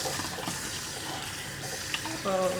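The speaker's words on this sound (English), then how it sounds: "I'm gonna run it under some cool water because it's like really hot right now." Steady cool tap water running over a freshly boiled egg, a continuous hiss and splash close by that brightens near the end, with a voice talking over it.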